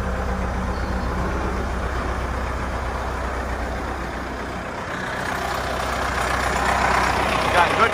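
A 1972 Cat 950 81J wheel loader's diesel engine running, a steady deep rumble that dips briefly then rises again as it revs up toward the end, heard close with no talk.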